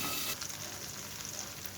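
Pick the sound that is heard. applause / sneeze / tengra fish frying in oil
tengra fish frying in oil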